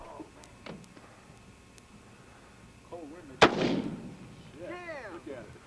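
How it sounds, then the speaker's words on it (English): A single loud shotgun blast fired outdoors, a sharp crack followed by a rolling echo, with faint voices and distant birdsong around it. "And my brother Paul with a shotgun."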